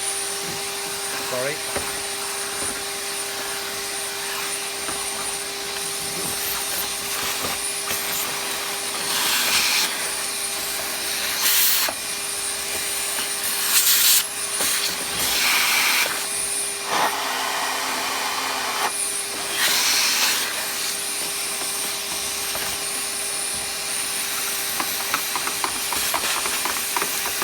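A Henry vacuum cleaner runs during a workshop refurbishment, a steady whining hiss with a tonal motor hum that surges and dips in bursts, heard alongside clatter and a brief spoken word.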